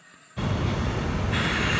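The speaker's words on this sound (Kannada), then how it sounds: "ನೋಡಿ ನಮ್ಮ ಮೆಟ್ರೋ" A metro train at a station platform: a loud, steady rumble cuts in abruptly after a quiet start and holds as the train runs alongside, with a brighter hiss joining near the end.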